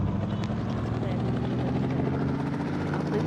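Helicopter in Indian Bike Driver 3D: a loud, continuous rotor and engine drone with a steady low hum and a constant whirring texture that stays level throughout, with no speech over it.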